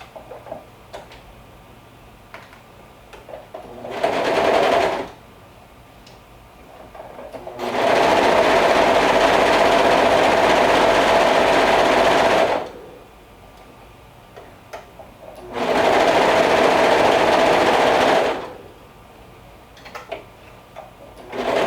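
A sewing machine runs gathering stitches on a dress, three steady bursts of loud whirring stitching separated by brief pauses with soft handling noise.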